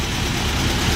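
A small vintage MG car idles steadily close by, its low engine rumble roughened by a slight exhaust leak from a low-hanging, dragging muffler, with no talking.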